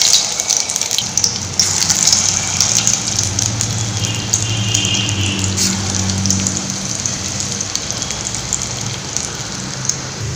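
Carrot gulab jamun balls deep-frying in hot oil, giving a steady, dense bubbling sizzle that runs unbroken and close throughout, with no talking.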